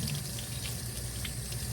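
Tap water runs steadily into a sink while hands lather soap into a thick foam, using hot water; a continuous close splashing rush with no voices.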